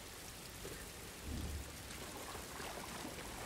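Steady rain hisses in the video game Star Wars Jedi: Fallen Order, a faint, even wash with a soft low rumble swelling briefly near the middle, no voices.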